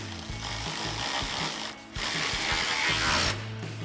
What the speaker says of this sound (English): now we'll grab our 10 mil socket on our ratchet and tighten down our outer bolts, or nuts rather